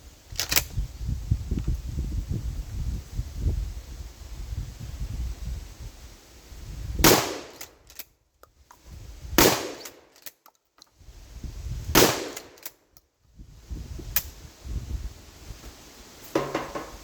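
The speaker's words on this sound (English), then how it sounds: "I'm going to shoot about 30 yards away" Gunshots from target shooting at a bag of concrete about 30 yards away outdoors, with several sharp loud reports spaced seconds apart over steady background noise.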